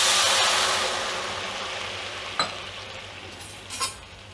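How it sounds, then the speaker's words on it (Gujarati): Water poured onto sugar in a hot kadai sizzles loudly at first, a broad hiss that gradually fades, followed by two or three sharp clinks of a utensil against the pan. "એમાં આપણે ખાંડ બુડે એટલું પાણી નાખશું"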